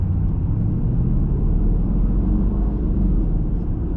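A Range Rover SVR with a modified exhaust, valves closed, pulls away in traffic with a low, steady engine rumble that stays fairly subdued and civil throughout.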